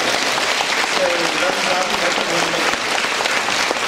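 Continuous applause from an audience at the Slané mosty event in Liptovský Mikuláš fills the space, a dense, loud wash of clapping that holds steady throughout.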